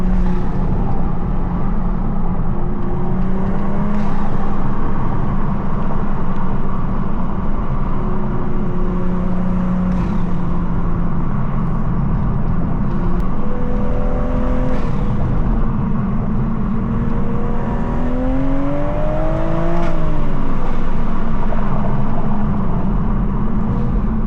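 A Toyota Supra with an ARMASPEED intake and a 6-speed manual drives at night, its engine droning loud and steady from inside the car, rising through several revs and gear changes, with no talking.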